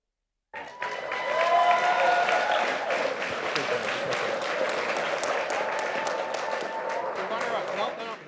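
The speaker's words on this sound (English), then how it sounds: "if you are the runner-up, please stand, accept your applause" An audience at a FIRST Tech Challenge robotics competition in Sheboygan, Wisconsin applauds a runner-up team. The clapping starts abruptly and continues steadily, and an announcer's amplified voice can be heard over it.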